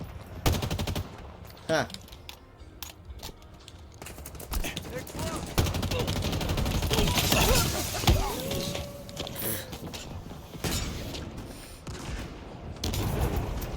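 Rapid video-game gunfire with heavy recoil, bursts of sharp automatic shots rattling close and loud across the stretch, with a brief spoken interjection among them.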